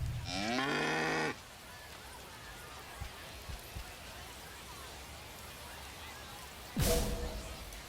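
Cow mooing sound effect from the MLB The Show 25 baseball video game: one loud, drawn-out moo with rising harmonics, followed by soft rain-like background noise and a brief second burst near the end.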